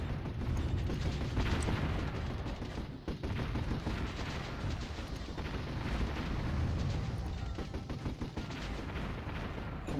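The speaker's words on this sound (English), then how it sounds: "The commander, attack something to just get the mortars to fire." Mortars firing in the real-time strategy game Warzone 2100: a steady barrage of overlapping thuds and crackling shots over mechanical clatter, dense and continuous for the whole stretch, at moderate volume with no talk.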